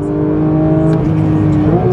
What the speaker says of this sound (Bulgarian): нищо не може да се сравни с звука и линейността на този мотор